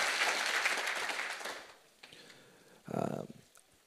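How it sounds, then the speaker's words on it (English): A conference audience applauds loudly after a climate champion is introduced at an environmental council's 50th anniversary celebration, the clapping fading out over a couple of seconds, followed by a short burst of cheering and voices. "give Nina Otter a big round of applause"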